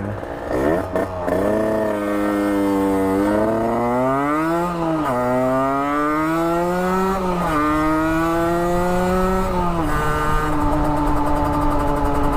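Motorcycle engine running steadily and revving up and down through several pitch sweeps, loud and close, with no voices over it.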